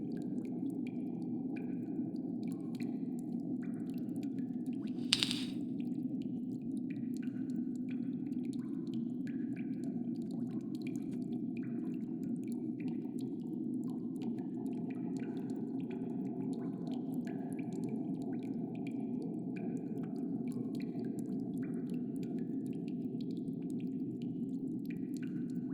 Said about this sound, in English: dripping cave noise in both ears.